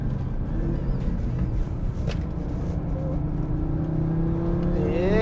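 Heard from the cabin, a 2018 Audi RS3 five-cylinder engine accelerates with a steady, rising growl that climbs in pitch toward the end, loud and continuous.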